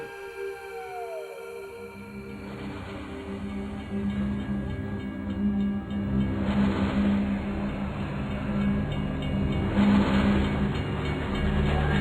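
A train rumbles steadily at close range, a continuous low mechanical roar with swelling surges and faint rhythmic clatter, presented as the Hogwarts Express from Harry Potter.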